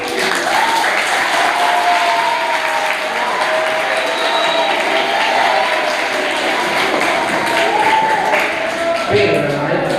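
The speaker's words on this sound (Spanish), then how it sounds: "Ahora sí pueden aplaudir." Schoolchildren at a Montevideo school give loud, sustained applause, a dense continuous wash of clapping with some voices mixed in.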